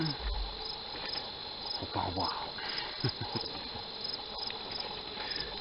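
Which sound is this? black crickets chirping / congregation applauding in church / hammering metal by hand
black crickets chirping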